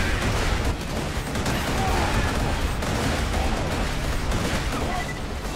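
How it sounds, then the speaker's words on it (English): Repeated grenade blasts in the video game Borderlands 2 merge into a dense, loud, continuous barrage of explosive rumble and crackle that runs for the whole stretch without letup. "I'm just going to toss one more goodbye grenade. Maybe even a few."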